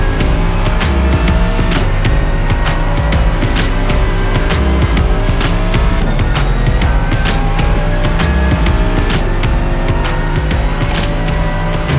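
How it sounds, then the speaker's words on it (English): A race car in a virtual racing simulator game drives at full pace, its loud continuous engine note shifting and revving with rapid clicking gear changes, with no voices over it. "I'm in last corner, Felix."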